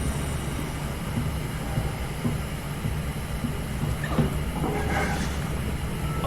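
A shuttle train moves in the video game SOMA with a continuous low rumbling drone and faint mechanical rattles, steady throughout with no speech.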